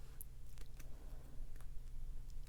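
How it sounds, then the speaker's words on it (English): Scissors cutting fabric close to the edge, with several faint, crisp snips spaced irregularly over a few seconds, quiet and close against a low background hum. "I'm just going to take the scissors to this one and cut close to the fabric edge"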